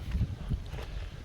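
Wind gusting across a microphone outdoors on a misty day of fishing, a steady low rumble with buffeting swells, loud and continuous with no voices.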